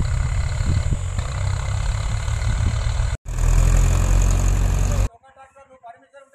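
A sand tractor's engine runs near a temple with a loud, steady low rumble. The sound breaks off once, returns even louder, then drops away to quieter background sound.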